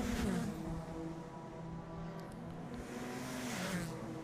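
Race cars in the ICCR 2024 Round 2 event roar steadily along the main straight, a continuous engine drone heard from a distance with no talking over it.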